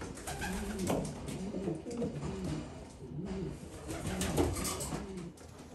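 Pigeons paired for breeding coo steadily and close by, their soft, rolling, repeated coos overlapping throughout with no talking.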